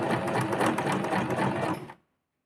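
Sewing machine stitching fabric for high-waisted pants, then back stitching, a close steady mechanical whirring with fast needle rhythm that stops abruptly into silence.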